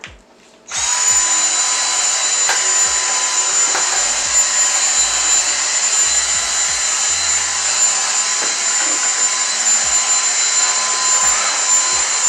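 Vacuum cleaner running in a home kitchen: a loud, steady motor whine with a high pitched tone that starts abruptly after a brief quiet moment and keeps droning without pause.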